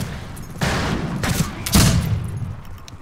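Rifle gunfire in the Western shooter game Fistful of Frags, with three sharp shots from the Sharps rifle spaced about half a second apart, each followed by a short ringing tail over steady background game noise.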